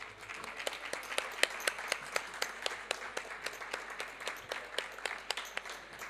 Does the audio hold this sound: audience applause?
yes